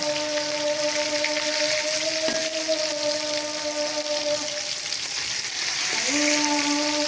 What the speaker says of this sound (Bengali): কড়াইয়ের মধ্যে তেল দেওয়ার পর তার মধ্যে আমরা মাছ দিয়ে দিয়েছি। এবার এটাকে আমরা ভাজবো ভালো করে।